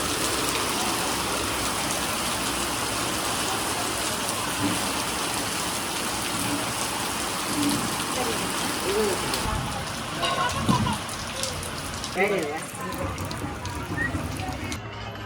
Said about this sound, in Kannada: ಮಳೆ ಒಂದು ರೌಂಡ್ ಹೊಡೆದು ಬಿದ್ದೈತೆ ಗುರು.